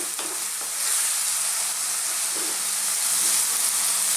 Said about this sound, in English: So let's cook these on a kind of medium to high heat just for about 3 to 4 minutes, stirring all the time.